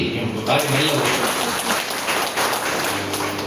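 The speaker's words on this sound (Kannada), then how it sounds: "ನನಗೆ ಗೊತ್ತಿದ್ದ ಹಾಗೆ ಚಪ್ಪಾಳೆ ಹೊಡಿ." An audience at a parents' orientation program claps in a steady, dense burst of applause at moderate loudness, continuing throughout.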